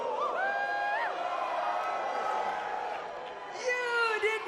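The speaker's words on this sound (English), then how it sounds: "This crowd is lit. I love this crowd." Lively crowd cheering and whooping at the WrestleMania XL kickoff press conference, a busy roar of voices with a brief dip midway and a surge near the end, under a voice talking.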